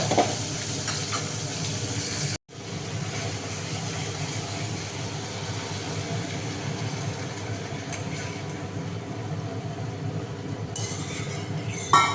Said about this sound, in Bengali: মাথাটা খুব বড়, মাথাটাকে আলাদা ভাজতে হবে।